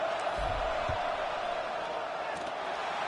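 A video game stadium crowd for American football gives off a steady, broad murmur and roar before a field goal attempt, with a faint thump near the start.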